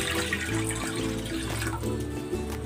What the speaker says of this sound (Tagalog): Maglalagay na ako ng tubig dito sa kawali.